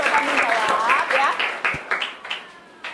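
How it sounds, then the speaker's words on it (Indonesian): Students in a Hindu religion class clap for a classmate who tried to answer, a short ragged burst of close hand claps that thins out into a few scattered claps, with voices mixed in. "tepuk tangan dulu untuk Indah yang sudah mencoba menjawab ya"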